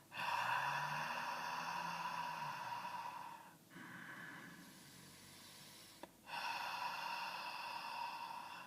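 Ujjayi breathing, a slow, steady throat-constricted breath with a soft ocean-like hiss, heard up close in long continuous strokes with brief pauses between them and no talking.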